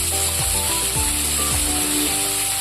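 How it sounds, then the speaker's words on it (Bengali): Potatoes and chopped onion fry steadily in a pan, giving a loud, continuous sizzle with a few faint scrapes as they are moved about, with no voices. "এবার আমি এটা ভালো করে একটু ভেজে নেব।"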